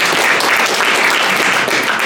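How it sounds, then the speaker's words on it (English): Applause at a boxing press conference, steady dense clapping from the room, fairly loud and continuous with no voices over it. "Let's have a round of applause for"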